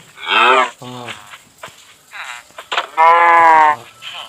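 A cow moos repeatedly in the Minecraft video game, with three distinct lowing calls: a strong one at the start, a shorter one soon after, and another loud moo near the end, separated by quiet gaps.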